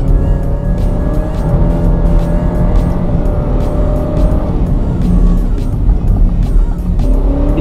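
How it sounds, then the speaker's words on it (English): Alfa Romeo Stelvio SUV engine, a small but fierce unit, running loud and close with a steady throaty drone and slight pitch shifts as it revs. "It's a tiny but ferocious engine."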